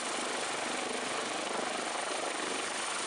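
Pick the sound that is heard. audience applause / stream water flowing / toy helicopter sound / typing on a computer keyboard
toy helicopter sound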